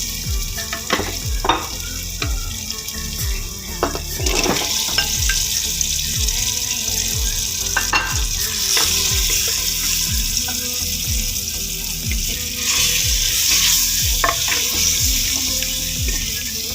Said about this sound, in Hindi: मसाला अच्छी तरह से भुन गया और अब मैं इसमें आलू शामिल करूँगी।